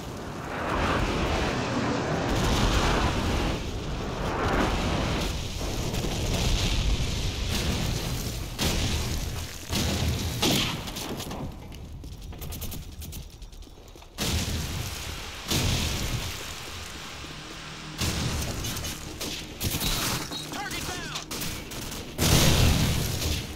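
Airstrike explosions and rolling gunfire in the Call of Duty 4: Modern Warfare multiplayer map Bog, a dense, continuous barrage of booms and shots at steady loudness with brief dips.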